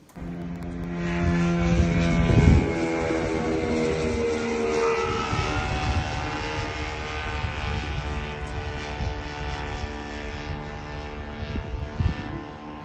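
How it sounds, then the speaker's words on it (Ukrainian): A military drone drones steadily overhead, a sustained propeller-engine hum with layered tonal harmonics, fairly loud and continuous with a brief louder swell early on. "Давайте подивимося, поспостерігаємо, як же ж дрон летів."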